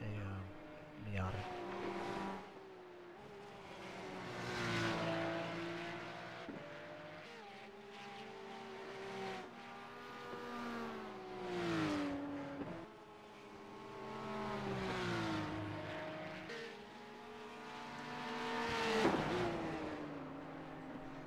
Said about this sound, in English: They're coming up on the lapped Porsche and a Miata.